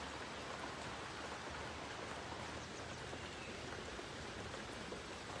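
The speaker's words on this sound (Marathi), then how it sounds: "बाहेर पाऊस पडतोय" Rain falls outside a house in Chiplun, a dense, even hiss of drops that holds steady and fairly faint from start to finish with no voices.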